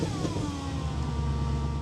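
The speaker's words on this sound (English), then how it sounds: "I shouldn't rev a cold engine, should I really?" A cold Audi engine with a power steering fault and ABS fault revs steadily and continuously, with a low rumble and rising whine close to the microphone and no talking.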